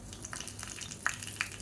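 Whole spices (cinnamon, cloves, cardamom, kalpasi and fennel) hit hot sesame oil in a kadai, giving a soft, steady sizzle with a few light crackles and pops.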